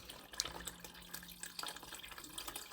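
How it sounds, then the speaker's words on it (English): Water poured from a cup into a pot of thick red kidney bean curry, a quiet, steady trickle and splash running for a few seconds, faint and close, with no talking. "I'm going to add another cup of water to this now"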